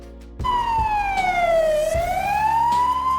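A Portuguese ambulance siren, on a Mercedes-Benz emergency vehicle, kicks in abruptly and sweeps loud and close in one long falling-then-rising wail, heard alone.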